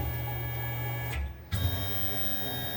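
A Tormach 15L Slant-PRO CNC lathe jogs back along its Z axis, giving a steady close motor and servo whine with a short pause partway through before it resumes, with no talking.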